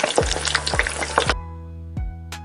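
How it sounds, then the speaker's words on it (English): French fries deep frying in oil at 350 degrees Fahrenheit give a close, dense crackling sizzle that cuts off after about a second, leaving a low steady hum with a couple of soft knocks. "Now I have taken French fries and I am going to deep fry at 350 Fahrenheit until golden brown in color"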